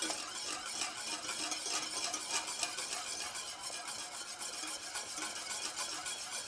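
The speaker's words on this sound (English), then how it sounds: "It's gotta keep boiling though, and you gotta keep whisking." Sauce for short rib and polenta boils steadily while being whisked, giving a continuous close bubbling, sizzling hiss with faint scraping strokes throughout and no voices.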